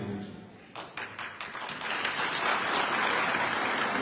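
An audience at a Bhim Army political speech breaks into applause, starting with a few scattered claps and swelling into steady, dense clapping from many hands.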